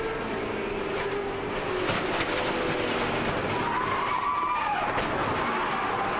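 NASCAR stock cars roar past a crash site in a loud, continuous rush of engine noise, with a skidding, rising pass near the middle and a sustained blur of traffic throughout.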